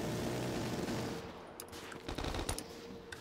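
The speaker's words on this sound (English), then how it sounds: "Bro, I'm literally sprinting while I'm shooting the death machine." Rapid, continuous machine-gun fire from the death machine minigun in Black Ops 3 custom zombies, a dense loud stream of shots with a few sharper bursts toward the end, no talking.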